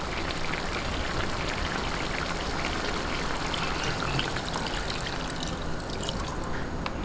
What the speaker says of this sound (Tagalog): lagay po natin itong pangalawang gata